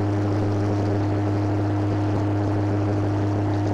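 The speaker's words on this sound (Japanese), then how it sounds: "離陸します。" An ANA Bombardier turboprop airliner with variable-pitch propellers takes off, its engines and propellers producing a loud, steady droning roar with strong low tones, heard from inside the cabin.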